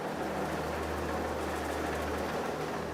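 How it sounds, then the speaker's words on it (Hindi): A tea sorting and grading machine, an electrostatic fibre extractor in a tea factory, runs with a steady low mechanical hum and rapid rattling clatter, continuous and close, with no talk. "वो जो उसका शॉर्टिंग एंड ग्रेडिंग करता है वो मशीन चालू है अभी।"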